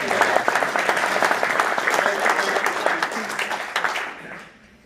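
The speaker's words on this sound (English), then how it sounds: "I'll have a standing applause." A standing ovation at a Kiwanis Club award presentation, dense sustained clapping from a full room that fades out toward the end.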